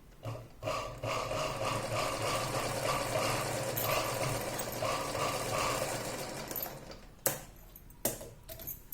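A sewing machine runs a continuous double line of stitches on a katori blouse, a steady close mechanical whir lasting several seconds before stopping, followed by a few sharp handling knocks.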